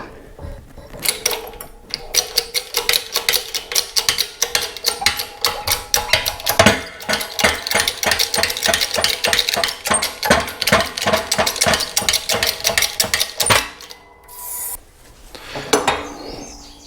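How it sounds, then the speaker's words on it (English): A hydraulic shop press forces a wheel bearing out of a Yamaha ATV four-wheeler hub using a socket and pipe, giving a steady mechanical run of dense rhythmic clicks and grinding that stops abruptly near the end. "this socket fits between that lip. We're going to put it on this pipe. This fits perfectly down inside there. And we'll just see if we can press it out."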